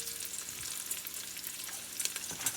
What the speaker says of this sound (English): our bacon's starting to render down a little bit